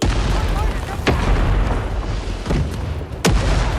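Explosions in the Vietnam War shooter Rising Storm 2: Vietnam, with several loud, sharp blasts and booms over rumbling combat noise. One hits early, another near the middle and one close to the end.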